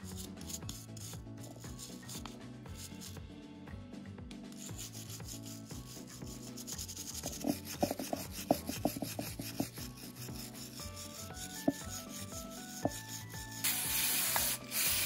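Metal tow hook on a Suzuki HA36S Alto F, its rusted threads cleaned, being rubbed and polished by hand, giving a steady rasping scrape with quick repeated strokes, close and continuous with no speech.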